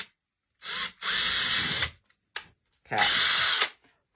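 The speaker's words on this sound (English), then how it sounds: "I'm going to drill a hole, maybe like a 1/4 inch or so from the top." A power drill bores a small hole near the top edge of a Dollar Tree craft piece, running in four loud close bursts, two longer whirs and two short blips, with a brief spoken word between them.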